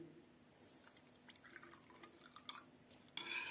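Cold water trickles and drips into a small amount of gelatin, faint and close, ending in a short louder splash of pouring.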